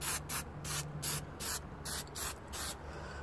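A spray paint can hisses in short, repeated bursts onto an aquarium, about eight quick puffs in a steady rhythm, close and fairly soft, with brief quiet gaps between them.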